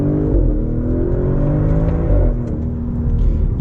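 An Audi RS7 Performance with a 605 hp, 750 Nm engine revs loudly and continuously. A rich low rumble rises and falls slightly over a few seconds, close up, with no talking.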